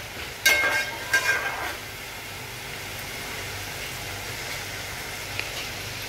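Chopped onion cooking in a pan for spicy Agri-style misal pav, a steady soft sizzle with two brief scraping stirs near the start, then a low continuous hiss with no voices.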